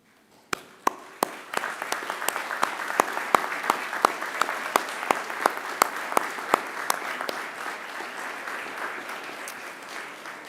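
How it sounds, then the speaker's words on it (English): Applause at a Macquarie University graduation ceremony starts with a few separate, sharp claps. It quickly builds into steady, moderately loud clapping from the gathered crowd that carries on evenly to the end. "turn to the people behind you and across from you and give them a round of applause in thanks"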